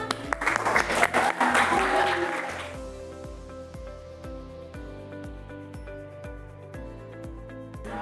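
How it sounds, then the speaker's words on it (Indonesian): A classroom of vocational-school students applauding, dense clapping for about three seconds, then music with a steady beat carries on alone. "Oke, aplaus buat kita semua"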